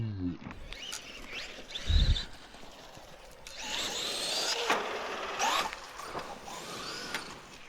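A Traxxas Maxx 4S RC car in a park, its electric motor whining up under throttle, mid-distance, mixed with outdoor noise and brief speech.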